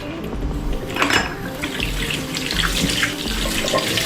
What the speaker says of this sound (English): So what I will do now is I'm going to rinse it off.